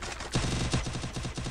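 Rapid automatic MP40 fire in Free Fire, a tight string of evenly spaced shots in a short burst, loud and close with no talk over it.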